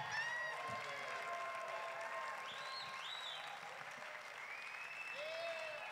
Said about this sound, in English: Y'all make some noise now while they make it to the stage.